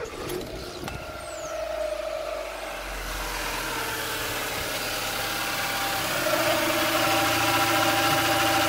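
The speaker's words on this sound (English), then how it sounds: "that has settled down to a better idle much more quickly" A cheap used £200 car's engine idles steadily, a close, continuous mechanical rumble that grows slightly louder and rougher toward the end, with no talking.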